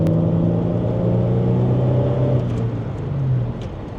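Holden VS Commodore V6 engine pulling steadily under acceleration while driving, a continuous close droning hum with rising harmonics, no talk.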